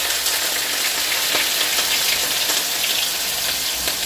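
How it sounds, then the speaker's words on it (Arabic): Chopped onions and two garlic cloves fry in hot oil with a steady, dense sizzle that holds constant and close throughout, with no voices over it. "هنا عندي جوج بصلات وجوج فروع ديال الثومه كنشلضوهم غلاب، وغادي نلوحهم"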